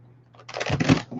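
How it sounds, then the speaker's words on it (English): A tarot card deck being shuffled by hand, a short crisp riffle of cards flicking together, close and growing louder over about a second. "I will shuffle the deck, and I do everything in threes."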